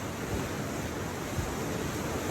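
The Bhagirathi river at Gangotri flows in a steady, dense rush of icy mountain water on a cold morning, a continuous close broadband roar with no pauses.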